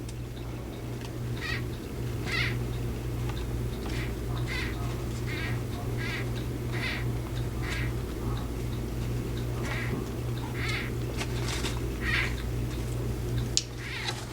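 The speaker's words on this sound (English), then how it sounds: "people that are concerned about the noises their crested geckos are making" A gravid female crested gecko gives warning noises, a run of short squeaky chirps repeated at an irregular pace over a steady low background hum, fairly faint and with no talking.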